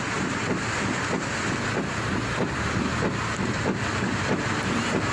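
Heavy rain with strong wind in Jember, East Java, a steady broadband roar of rain and gusts buffeting the microphone, constant and loud throughout with no voices.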